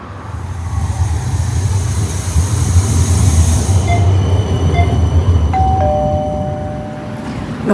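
A tram rolls along its rails with a loud, steady rumble up close, then metal wheels squeal in high, sustained tones near the end as it rounds a curve.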